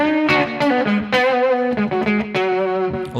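An electric guitar plays a clean tone through univibe modulation and slap delay, with a short melodic R&B-style phrase of plucked notes carrying a warbling, slightly doubled shimmer.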